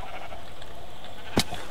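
Video game sheep gives a single brief bleat, sharp and near over a steady low background hum.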